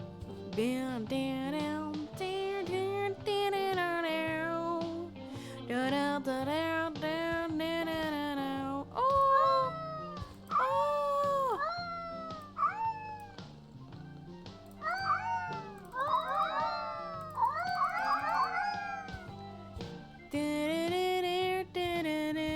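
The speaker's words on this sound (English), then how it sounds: "Where's the cat?" A pet cat meows repeatedly in a long, varied series of rising and falling cries, loud and close, with no talking over it.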